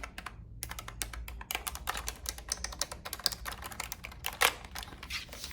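Steady, close-up typing on a small wireless Bluetooth keyboard with vintage-style round keys, quick irregular clicks running throughout with a few louder key strikes, no talking.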